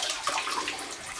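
Water circulating steadily in a small tank or bait container as a pump drives it in a circular motion, a continuous close-up rushing and trickling wash with no talk.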